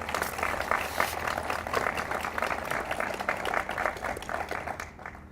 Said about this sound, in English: And I think they deserve a great round of applause.